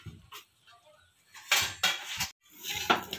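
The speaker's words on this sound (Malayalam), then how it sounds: "ഒരു പ്ലേറ്റ് എടുക്കട്ടെ." A plate being picked up and set down in a home kitchen while making bakery-style coconut buns, giving a few short, close clinks and clatters of crockery with quiet pauses between them.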